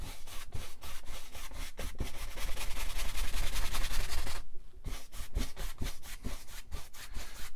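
A paintbrush scrubbing crisscross strokes across canvas, a rhythmic series of dry rasping rubs in quick back-and-forth bursts, with one brief pause midway.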